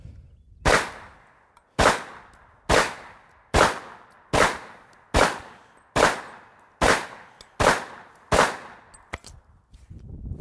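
A Hi-Point carbine fires about ten evenly spaced gunshots, each a sharp, loud crack with a short decaying tail, roughly one shot per second, with no voices.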